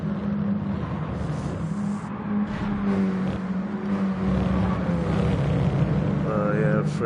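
Engines of Mini Cooper race cars in a racing video game drone and rev in a steady hum under a commentator's excited talk, with the pitch shifting as cars accelerate and pass.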